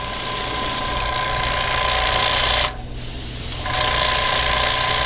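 Heat gun blowing hot air to heat-set paint on fabric, a loud, steady whirring hiss that dips briefly near the middle before resuming, close and continuous.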